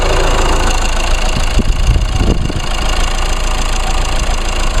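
A Chevrolet Cruze engine running steadily at idle, a constant close mechanical hum with a faint knocking texture throughout, and no talk over it.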